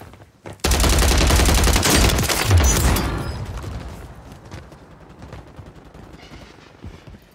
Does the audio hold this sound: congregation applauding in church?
no